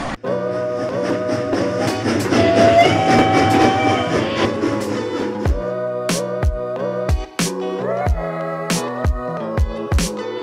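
Local train KA 405 in Surabaya runs along the rails with a steady rolling rumble and rhythmic clickety-clack beats from the wheels, loud and close.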